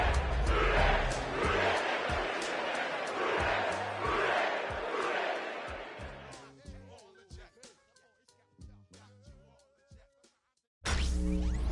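A roaring stadium crowd fills a Madden NFL football game on PS5 as a loud, dense cheer. It drops away into sparse thuds and effects, goes briefly silent, then surges back.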